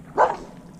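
A single short dog bark, moderately close and clear against a quiet background.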